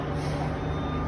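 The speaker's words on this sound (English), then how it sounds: "Second truck's offloading right now." A truck being unloaded at a speedway garage, with a steady low engine rumble and a faint high tonal whine running under it, continuous and fairly quiet with no voices.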